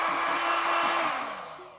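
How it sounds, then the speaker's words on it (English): A hot air gun blows with a steady, loud, broadband roar, close by, heating trim on a Honda Goldwing motorcycle, gently easing off toward the end. "Now I use a hot air gun to heat it up."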